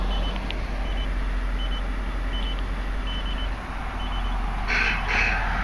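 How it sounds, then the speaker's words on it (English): Warning buzzers at a Hanna-Jim Coleman Water Wizard 2.0 automatic car wash at a Shell gas station beep in short, evenly spaced, faint pulses over a steady low rumble of machinery, with no talking. "And I really don't like those buzzers."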